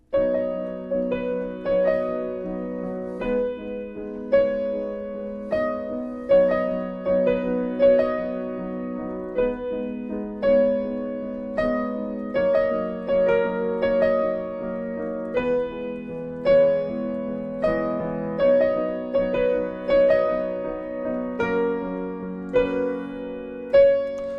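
Piano plays sustained chords pulsing on eighth notes with a melody over them, steady and clear with gentle pulsing dynamics and no voices.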